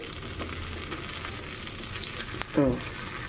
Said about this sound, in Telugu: బట్ మీకు ఎలా కావాలంటే అలాగా వీటిని ఫ్రై చేసుకోవచ్చు